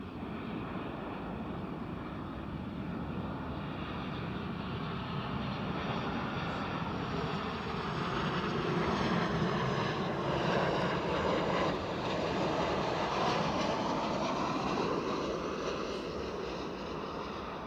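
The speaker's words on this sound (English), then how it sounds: "So this will be a 737. I think it's an 800" A Boeing 737-800 at Edinburgh Airport makes a continuous broad jet roar heard from fairly close outdoors, swelling in the middle as it passes, then holding steady with light wind noise.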